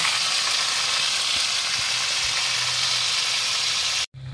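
Pork sizzles loudly in a pan with onion and garlic for adobo, a steady close frying hiss with a few faint stirring knocks, cutting off abruptly near the end.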